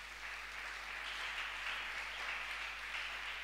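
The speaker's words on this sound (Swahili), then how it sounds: "Leta makofi kwa utukufu wa jina la Yesu." A congregation claps together during a church sermon in praise of Jesus' name, a steady, fairly faint wash of hands with no one speaking over it.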